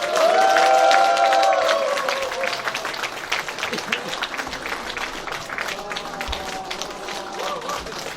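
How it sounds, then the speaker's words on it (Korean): Applause from the audience at a Democratic Party members' education event in Incheon, a dense burst of clapping that is loudest at the start and then tapers, with voices and tonal sounds mixed in above it. "여러분들 박수 부탁드리겠습니다"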